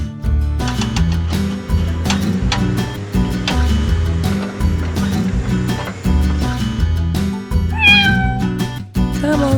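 A cat meows from up in a tree, its cries set against steady, rhythmic toy-story background music that stays loud throughout.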